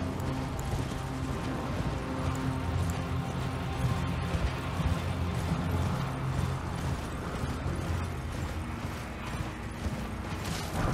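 Horse hooves clatter in a steady, rapid gallop while riding in Elden Ring, with a continuous drumming rhythm and creaking tack under a low ambient game backdrop.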